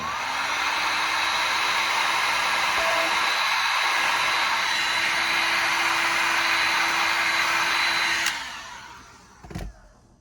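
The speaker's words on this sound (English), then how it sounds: "And one last heat gun." A heat gun blows hot air over a carved jack-o'-lantern, a loud steady whooshing roar with a constant whine that holds for about eight seconds and then winds down, followed by a brief clunk.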